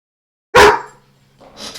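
A dog gives a single sharp, loud bark close by, followed by a fainter yip, with silence around it.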